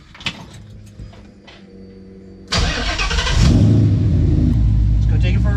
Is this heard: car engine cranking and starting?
yes